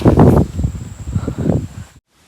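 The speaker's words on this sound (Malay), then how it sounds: "angin kuat-kuat" Strong wind gusts roar in loud, rustling bursts around a forest campsite, swelling twice before cutting off abruptly into near silence.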